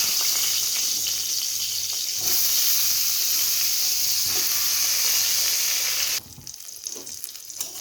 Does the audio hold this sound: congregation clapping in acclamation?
no